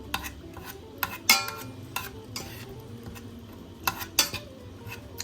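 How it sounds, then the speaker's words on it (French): Back of a spoon pressing and stirring fruit in a saucepan, soft scraping and occasional sharp metallic clinks against the pan over a faint simmering sizzle, close and fairly quiet. "J'écrase un peu avec le dos d'une cuillère les fruits dans la casserole"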